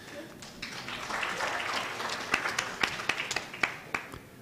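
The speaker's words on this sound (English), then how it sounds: "so we can clap the second time." Audience clapping at a conference session on intimate partner violence screening, a light patter of applause building into sharper scattered claps near the end, moderately loud in a meeting room.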